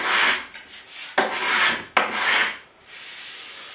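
A hand plane shaves along a wooden cabinet edge in several long, close, hissing strokes, each ending in a brief break before the next, followed by a quieter steady scraping pass, with no talking.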